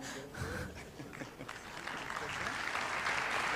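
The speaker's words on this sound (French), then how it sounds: "On peut les applaudir." Faint applause from an audience at the Victoires du sport aquitain award ceremony for leader of the year, the clapping building into a steady patter, with a voice speaking briefly.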